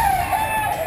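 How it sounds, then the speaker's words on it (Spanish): Farm roosters crow in a steady, sustained call, loud and fairly close, filling the whole brief moment without any talking. "Son los gallos de este."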